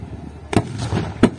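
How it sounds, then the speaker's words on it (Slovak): Zuzana self-propelled howitzer firing during a tank-day military demonstration, heard as two sharp distant booms about two-thirds of a second apart with a rumbling tail between them, no voices. "Tretí výstrel z húfnice Zuzana."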